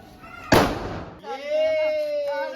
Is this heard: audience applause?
no